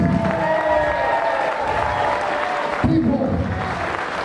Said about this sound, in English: People cheering for me, people clapping for me from the bottom of your heart.